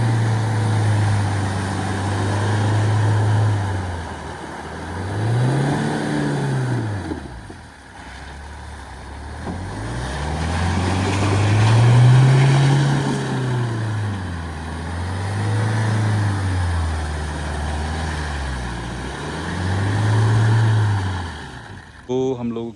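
Off-road vehicles drive through mud, their engines rising and falling in long revving swells and idling between pushes, fairly close and loud, with people talking over the engine noise.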